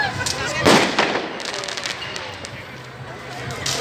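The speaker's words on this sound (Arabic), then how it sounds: "هذا صاروخ ابو الدبة اسمه" A rocket firework launches at a New Year's Eve celebration in Berlin, one sharp whooshing burst near the start among distant crackling, with people talking nearby.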